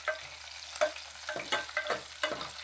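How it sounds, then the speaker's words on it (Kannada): Curry leaves fry in hot oil with a soft, steady sizzle, broken by repeated scraping strokes of a spoon stirring the pan at close range. "ಸ್ವಲ್ಪ ಕರಿಬೇವನ್ನ ಹಾಕ್ಕೊತೀನಿ. ಎಣ್ಣೆಲಿ ಸ್ವಲ್ಪ ಫ್ರೈ ಮಾಡ್ಕೊಳ್ಳೋಣ."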